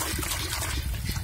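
Water is poured and splashed into a swimming pool during cleaning, with a steady, close rushing and trickling that runs without a break.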